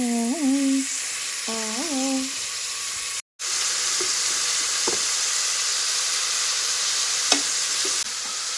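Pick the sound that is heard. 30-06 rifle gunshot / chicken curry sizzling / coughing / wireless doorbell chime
chicken curry sizzling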